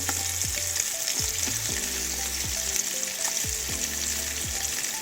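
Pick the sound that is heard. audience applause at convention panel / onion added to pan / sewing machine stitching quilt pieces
onion added to pan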